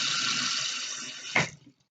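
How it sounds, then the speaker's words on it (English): Dirty water poured down a sink, a steady rushing splash that ends with a final gush and a brief drain gurgle before falling silent. "Pour the dirty water down the sink."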